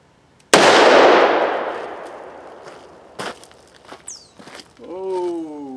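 .357 Magnum revolver fired with soft-lead rounds into a ballistic gel target: one loud, sharp close-range gunshot with a long decaying tail, followed by faint clanks and a voice.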